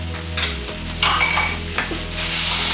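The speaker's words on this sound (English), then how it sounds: "Just need to fry this up for a couple of minutes." Soybean paste and mushroom sauce fry in a pan with a steady sizzle, broken by a few clanks and scrapes of a utensil stirring against the pan, close up and with no talk.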